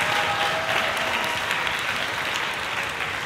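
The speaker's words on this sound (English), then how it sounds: "one more round of our applause to our Symphonic Band seniors." Dense, steady applause from a school concert audience for the Symphonic Band seniors, filling the hall evenly for a few seconds with no talk.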